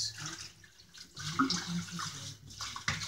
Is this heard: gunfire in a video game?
no